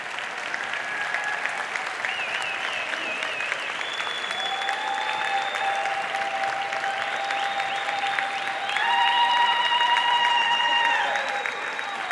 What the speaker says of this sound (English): acknowledge your support with a hearty round of applause